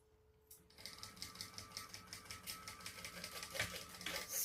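Sewing machine stitching fabric for a Veronica bag, a rapid, even mechanical chatter that starts after a brief quiet moment and runs steadily at close range.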